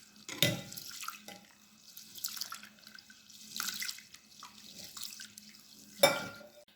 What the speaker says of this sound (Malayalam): തിരുമ്പി കഴുകിയെടുക്കണം